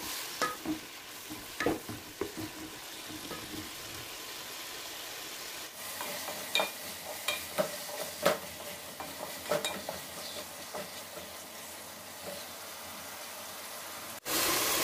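Tomatoes being mashed and stirred in a pot while cooking for salmon sinigang, with a soft sizzle and irregular scraping and knocking of a utensil against the pot, close and without talk.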